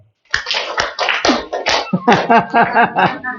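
An audience in a seminar claps on cue, a burst of many hands slapping together in close, loud, fairly rhythmic rounds that fade after a few seconds, with no voices over it.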